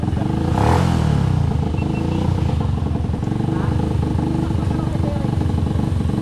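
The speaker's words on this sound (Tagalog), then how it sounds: "Ito yung motor namin" A motorcycle engine revs close by, loud and rough with a throaty mechanical clatter, while people talk over it.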